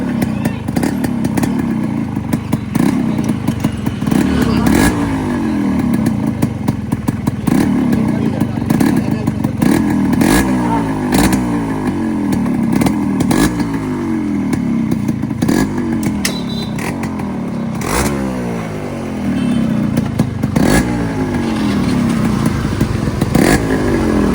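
A Yamaha RX100 motorcycle fitted with an open muffler revs repeatedly, each loud, rasping rise in engine pitch followed by a drop, in a steady cycle of close-up throttle blips that runs for the whole stretch.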